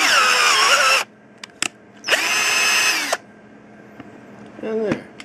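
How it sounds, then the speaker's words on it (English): A power drill with its torque set at 16 bores quarter-inch holes for support brackets on a flat spiral Tesla coil primary. It gives two loud whirring bursts of about a second each, with light clicks between them and a brief voice near the end. "That is all of my quarter inch holes all drilled out."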